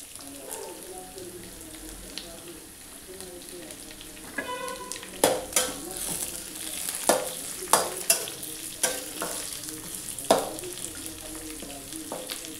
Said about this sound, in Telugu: ఇప్పుడు వచ్చేసి కరివేపాకు వేద్దామండి.